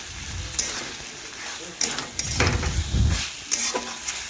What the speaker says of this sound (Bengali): আমি এইভাবে বেশ কিছুক্ষণ নাড়াচাড়া করে একটু রান্না করে নিলাম চিকেন